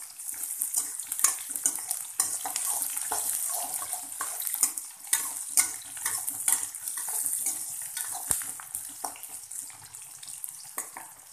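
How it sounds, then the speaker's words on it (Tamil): Garlic and onion sauté in a pan for karamani kuzhambu. A close, steady sizzle is broken by scattered crackles and stirring clicks. "பூண்டு, வெங்காயம் வந்து கொஞ்சம் நல்லா வதங்கட்டும்."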